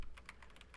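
Quick clicks from a custom computer keyboard with white keycaps and a black space bar, a handful of close, crisp keystrokes in an uneven rhythm, heard alone.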